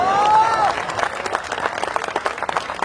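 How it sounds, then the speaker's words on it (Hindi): Loud audience applause at a Hindi comedy poetry gathering, with dense clapping from a crowd, joined at the start by a brief voice and continuing steadily throughout. "इस पर तालियां कम बजी आपकी"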